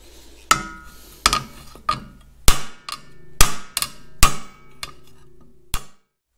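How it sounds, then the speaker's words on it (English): A series of sharp, ringing hammer blows on metal during Caterpillar D2 diesel engine assembly, about ten strikes at an uneven pace, loud and close, with no talking. "All right, all the hammering work is done."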